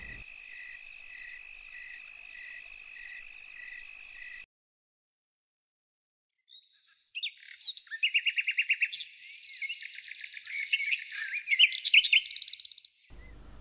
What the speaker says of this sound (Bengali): পরদিন সকালে পাখির কিচিরমিচির শব্দে ঘুম ভেঙে গেল